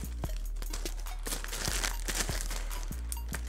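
Thin plastic bag crinkling and rustling as board-game pieces for Twilight Imperium 3 with expansions are handled, with irregular crackly bursts over a steady low hum and no talking.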